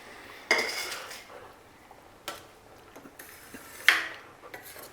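A spoon scrapes and clinks against a pan while lobia (rongi) curry is stirred, with a few sharp metallic knocks spread over several seconds, close and moderately loud, no voices.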